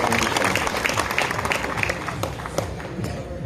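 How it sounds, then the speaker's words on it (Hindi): Audience at an outdoor kavi sammelan poetry gathering breaking into loud, dense applause, sustained clapping from a large crowd that fills the whole moment. "एक बार जोरदार तालियां बजाइए"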